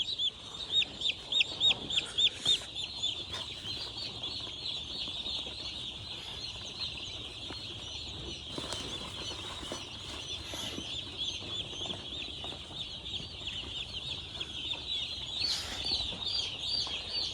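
Day-old chicks on a poultry farm, huddled together in the cold, give a steady high chorus of peeping and cheeping, with a few louder chirp bursts near the start and scattered rustling throughout.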